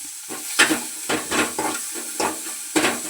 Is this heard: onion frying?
yes